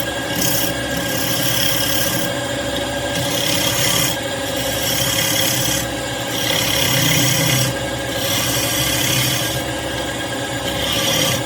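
Spindle gouge cutting cherry wood on a lathe for a lidded box, a loud steady scraping rasp that swells and eases in regular passes, no voices.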